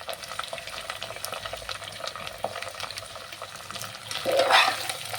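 Onions and curry leaves frying in a pan while being cooked for an Andhra-style lunch, a steady moderate sizzle with a louder burst of hissing near the end.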